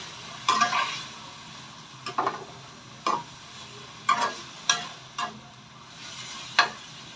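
Garlic chive flowers and chicken liver stir-fried over high heat with a splash of water: a soft sizzle underneath a series of sharp spatula scrapes and clanks against the pan, about seven strokes spaced a second apart, close by with no talking.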